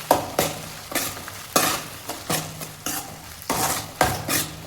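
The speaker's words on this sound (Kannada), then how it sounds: "ಆ ಪೇಸ್ಟನ್ನ ಆ್ಯಡ್ ಮಾಡಿ ಹಸಿ ಸ್ಮೆಲ್ಲೆಲ್ಲ ಹೋಗೋವರೆಗೂ ನೀಟಾಗಿ ಫ್ರೈ ಮಾಡ್ಕೋಬೇಕು" Spice paste for egg curry fries in a pan while being stirred vigorously, producing loud bursts of sizzle with repeated scraping strokes about every half second to one second, close and without talking.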